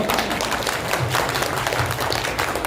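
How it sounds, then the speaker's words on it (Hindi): Audience applause at a Moringo Global launch event in Guwahati, Assam, a continuous fairly loud wash of clapping across the whole moment with some low rumble underneath. "मैडम के लिए ताली बजाओ भाई। ये कैसी जलन वाली ताली बजाइए? ढंग से ताली बजाओ।"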